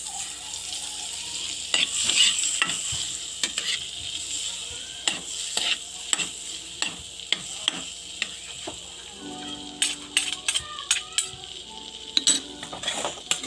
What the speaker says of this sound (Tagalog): I-toast natin sa butter para mas masarap.